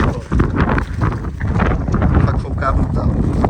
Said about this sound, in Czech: Fakt fouká brutál.